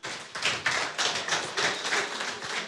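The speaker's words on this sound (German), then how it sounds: "Mit einem großen Applaus Jean-Christophe von Need for Seed Frankreich" Enthusiastic applause from a crowd, dense rapid clapping that swells and holds steady throughout, with no voices over it.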